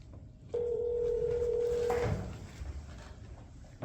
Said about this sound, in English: Brooke, will you tell Leaf he has a call?